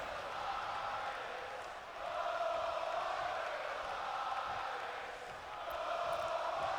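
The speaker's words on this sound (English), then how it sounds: "The fans are just being vocal tonight." Crowd noise from fans in WWE 2K20 during a King of the Ring match, a steady distant roar of cheering that swells and ebbs in slow waves, fairly faint and continuous with no talking over it.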